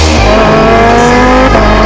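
A green and black toy race car speeds along, its loud, steady motor whine with a harmonic buzz running continuously and close.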